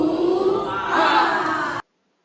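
A class of schoolchildren chants a spirit clap-chant together, a loud group of young voices shouting in unison that swells midway and then cuts off abruptly.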